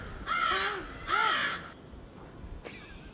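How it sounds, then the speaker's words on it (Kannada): A crow caws twice in quick succession while eating food, loud and close, followed by near silence with a faint brief call at the end. "ಓ ಕಾಗೆ ಚೆನ್ನಾಗಿ ತಿಂತಾ ಇದೆ"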